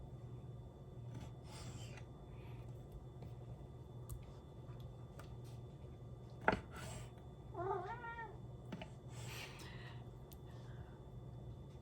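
A cat begging for food gives a single short meow midway through a quiet indoor kitchen scene as chicken is prepared, with faint rustling and a soft background hum.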